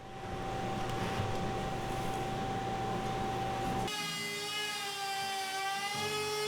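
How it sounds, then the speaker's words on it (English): A router fitted with a template bit cuts dados into plywood, producing a loud, sustained high-pitched motor whine with strong harmonics that shifts pitch partway through as the bit bites into the wood. "used a template bit in the router to cut the dados out"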